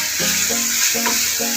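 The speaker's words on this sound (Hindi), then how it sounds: "ये सब चीज़ें इसमें शामिल करके 4 से 5 मिनट तक इसको मैं भूनूंगी" Spices sizzling in a pan for chicken jalfrezi: dried chilli, turmeric, black pepper, sugar, cumin and coriander powder frying with a steady bright hiss, while a low tone repeats in short pulses underneath.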